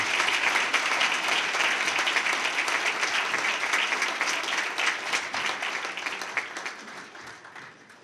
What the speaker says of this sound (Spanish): les pido un muy caluroso aplauso para nuestros alumnos